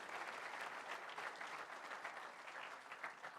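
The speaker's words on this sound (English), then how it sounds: "a round of applause to them also" Sustained applause from a crowd, many hands clapping steadily at a moderate distance, fairly quiet overall.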